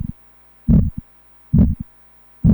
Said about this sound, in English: It's the world's tiniest fish. And that noise that it's making is louder than an elephant.